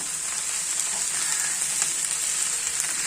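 Raw plantain and green gram frying in a cooker while being stirred, a loud, continuous close sizzle with faint scraping throughout, no voices.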